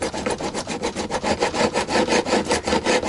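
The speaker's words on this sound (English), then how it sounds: "a few bits of sandpaper over the top of that would really soften that off" Sandpaper worked back and forth over the wooden body of an Epiphone Moderne guitar during a refret and setup, a steady rhythmic rasping of about four strokes per second, close and alone.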